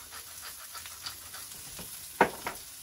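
Brisket starting to cook on a hot grill gives a soft, steady sizzle and hiss, with a few faint taps and one sharper click near the end.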